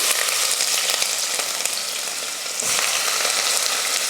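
Mustard seeds, urad dal and a large onion frying in hot oil in a pressure cooker, a loud, close, continuous sizzle with faint crackles, dipping slightly mid-way before surging again.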